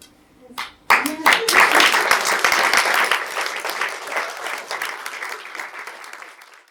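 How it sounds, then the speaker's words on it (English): A burst of applause from a group, dense steady clapping that starts suddenly after a few faint claps and continues, slowly thinning toward the end. "That's a clap."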